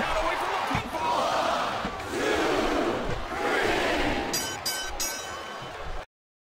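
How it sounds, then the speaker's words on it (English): Arena crowd in the wrestling video game WWE SmackDown vs Raw 2007 roaring in steady swelling waves, with sharp slams and clanks near the end before it cuts to silence. "I think these superstars are getting some feedback from the crowd, JR."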